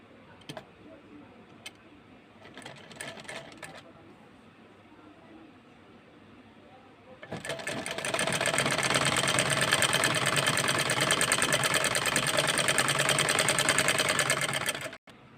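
A sewing machine stitches the opening of a baby skirt, starting with a few short ticking bursts and then running in one loud, fast, continuous whir for about seven seconds before stopping abruptly.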